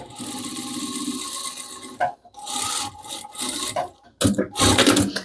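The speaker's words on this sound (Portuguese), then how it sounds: "vou passar uma costurinha aqui prendendo esse bolso" A sewing machine stitching a pocket onto the face of a fabric tote bag, close and loud, running in bursts of rapid whirring and rattling broken by short pauses.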